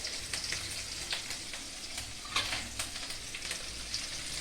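Boiled, diced ash gourd (white pumpkin) sautéing in a pan for a Tamil buttermilk curry, giving a steady close sizzle with soft scraping stir strokes at irregular intervals throughout.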